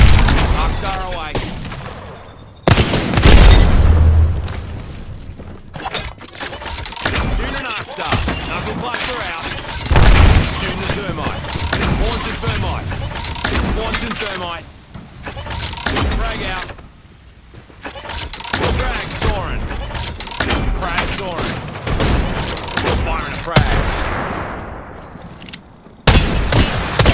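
Rapid chains of grenade blasts from Fuse's Knuckle Cluster in Apex Legends pop and boom repeatedly alongside gunfire and clattering, loud and busy across the whole stretch, with a player talking over the action.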